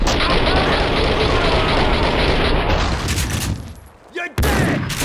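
Grenade blast and a sustained burst of gunfire in the video game Max Payne 2, loud and dense, rolling for several seconds before a brief cutoff and a final sharp shot.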